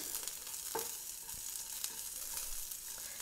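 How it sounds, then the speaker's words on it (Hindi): Chopped green chillies fry in hot oil in a pan, giving a steady soft sizzle with a few faint stirring clicks, quiet and close with no voices. "फिर इसके बाद हम अपनी दो ग्रीन चिली जो हमने कट करके रखी थी वो डाल देंगे और इसको भी हम दस से पंद्रह सेकेंड कुक कर लेंगे"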